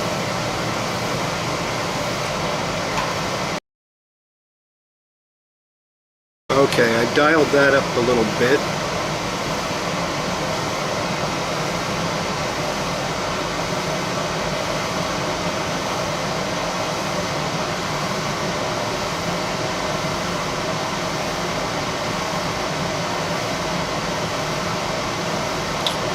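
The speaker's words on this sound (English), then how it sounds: "now we got the furnace on, and it looks like the furnace is taking over the audio" Home furnace blower running, a constant broadband whoosh of moving air filling the room, steady throughout with a brief dropout early on; someone speaks briefly over it.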